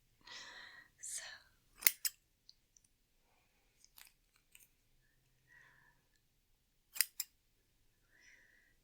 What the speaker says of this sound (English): snip them away. Just like that.